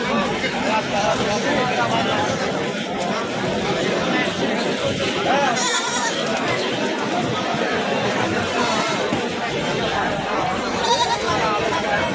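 Young goat kids bleat at the crowded Tebaria livestock market in Natore, with a few short calls rising over constant nearby talk and market chatter.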